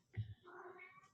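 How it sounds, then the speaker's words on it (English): A house cat meows once at the door to be let in, a short, faint, nasal cry in a quiet room, close by and alone. "Have to let the cat in."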